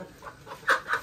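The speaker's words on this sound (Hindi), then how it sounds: "ये कल लड़ा मुर्गा" A rooster clucks in short bursts, a couple of louder calls near the end over faint background noise, during a village outing with a motorcycle.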